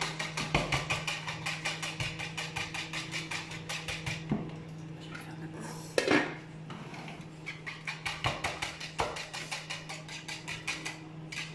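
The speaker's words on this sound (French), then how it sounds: "il faut bien mélanger pour pouvoir casser ça qui s'est figé au fond du bol" A spoon scrapes steadily around a bowl, breaking up a set lasagne mixture stuck at the bottom, a quiet close rhythm of regular rubbing strokes with one louder knock midway.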